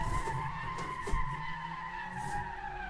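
Car tires skidding and squealing during drifting in the Assetto Corsa racing game played on a G29 wheel, a steady sustained screech with engine hum, loud and continuous throughout.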